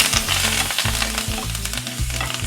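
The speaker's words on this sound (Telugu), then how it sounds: "ఇప్పుడు పోపు వేగిందండి, దీనిలో కరివేపాకు, పచ్చిమిరపకాయ ముక్కలు కూడా వేసేసి" Curry leaves and green chilli pieces hit a hot mustard-seed tempering, giving a loud, steady crackling sizzle with stirring scrapes throughout, close and without voices.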